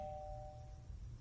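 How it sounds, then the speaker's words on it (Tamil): A single soft electronic doorbell tone from a neighbouring apartment rings faintly, a sustained pure chime fading after under a second over a quiet low hum. "அது பக்கத்து வீட்டு காலிங் பெல்றா."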